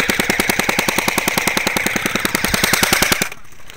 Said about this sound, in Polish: strzelają